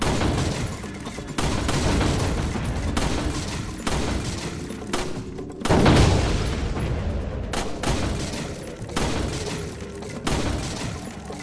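Explosions and bursts of gunfire in the 2005 original version of the video game Resident Evil 4, a dense run of loud, sharp booms and shots, with a heavier blast in the middle, continuing without a break and with no talk.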